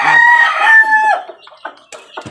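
Chicks and young stag chickens at feeding time on a poultry farm give a loud burst of overlapping crowing and clucking, then thinner scattered peeps and clucks that trail off.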